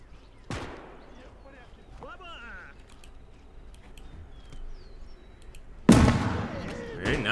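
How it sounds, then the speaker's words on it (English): Two loud grenade blasts in the WWII game Call to Arms - Gates of Hell: Ostfront, one sharp burst early and a heavier, rumbling one near the end, with a player talking in between. "Throw some grenades."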